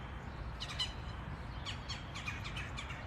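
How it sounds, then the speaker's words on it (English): Morning birdsong outdoors: several quiet chirps and short tweeting bursts come and go over a low background hush, fairly faint and somewhat distant. "I love the sounds of the birds."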